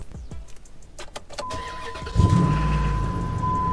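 An older car with an air-conditioning compressor problem cranks with a few clicks and a whirring starter, then the engine catches and settles into a steady running idle, close by.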